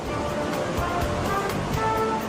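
Artificial waves from a wave-generating beach system with ten holding chambers, a continuous rushing wash of surf and churning water, fairly loud and close, with no other sounds over it.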